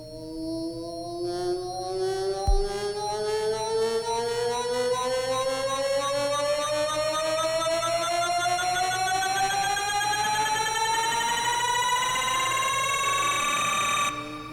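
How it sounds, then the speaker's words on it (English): A simple synth riser patch built in Harmor, heard dry without effects: a dense stack of bright harmonic tones sweeping steadily upward in pitch over about fourteen seconds, loud and sustained, with a brief low thump near the start. "There's this one riser that I made."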